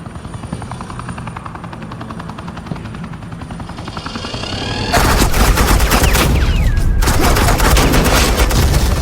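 Suppressing gunfire in the video game Batman: The Enemy Within, helicopter rotor chop that gives way to sustained loud rapid automatic fire mixed with engine roar.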